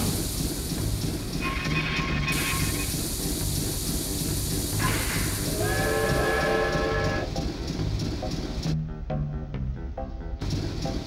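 Chuffy the train pulling into a station in the video game Banjo-Tooie, a loud continuous rumble of rolling wheels with whistle-like tonal blasts partway through and hissing brakes near the end.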